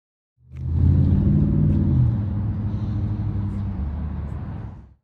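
A 2023 Ducati Monster SP motorcycle runs close by, its engine swelling into a loud rumbling rev and then holding a steady throaty drone before cutting off, with no voices.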